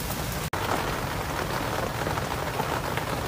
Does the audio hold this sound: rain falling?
yes